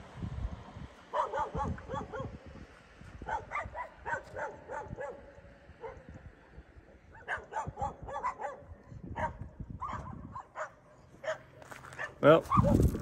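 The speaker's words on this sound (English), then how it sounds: "Bunch of wild dogs down there." A pack of wild dogs barks repeatedly near a river in Shkodër, Albania, with clustered barks and yips coming from a moderate distance and a person talking at times.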